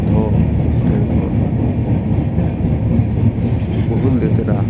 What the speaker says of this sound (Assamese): এতিয়া আমি ট্ৰেইনত উঠিলোঁ